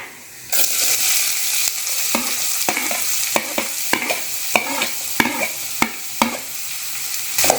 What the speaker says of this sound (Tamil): நல்லா கோல்டன் ஃப்ரை ஆகிற வரைக்கும் வதக்கி விட்டுட்டே இருங்க